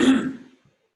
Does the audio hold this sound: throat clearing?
yes